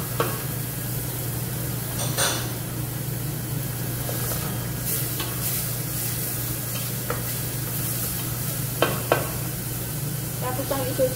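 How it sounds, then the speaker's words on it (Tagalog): Onion and garlic frying in a pan for Koshari, a steady sizzle running throughout with intermittent scraping stirs and clinks, close and fairly loud, no voices. "Papupulahin po natin yung sibuyas at bawang para lumaro sa ating niluluto."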